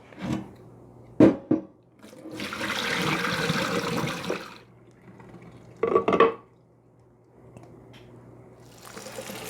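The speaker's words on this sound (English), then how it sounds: "So you want to just rinse these cucumbers in cold water." Water runs in a kitchen sink while cucumbers are rinsed for pickling, with a steady splashing stream in the middle, brief clattering knocks before and after, and a faint constant hum underneath.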